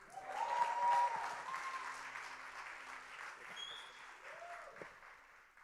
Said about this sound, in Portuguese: Me ajudem a receber com uma grande salva de palmas o pregador desta noite, nosso irmão Anderaine Nobre.